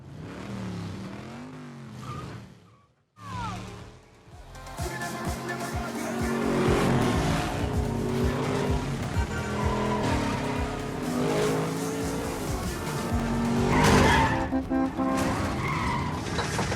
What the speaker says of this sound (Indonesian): mengadu mobil Fernando dengan mobil Raldo